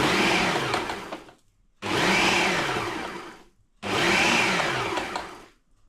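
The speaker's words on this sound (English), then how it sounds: "So I've got everything in the blender." A blender roars loudly in three bursts of about a second and a half each, separated by short silent pauses, chopping ingredients for sweet chilli and smoked garlic apple sauce.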